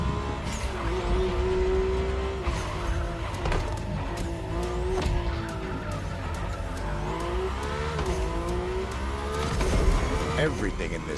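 Mercedes-AMG One hypercar driven in The Crew Motorfest racing game: a loud, steady engine roar that rises and falls in pitch with shifts and revs, with brief tire squeals, while a voice talks over it throughout.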